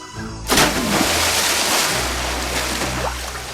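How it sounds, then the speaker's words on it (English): A sudden splash as someone dives into a shallow river with a current, followed by steady rushing and sloshing water filling the rest of the moment up close. "So I dove into the river."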